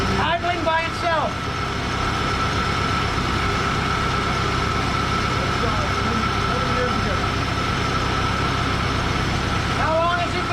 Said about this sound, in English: idling by itself.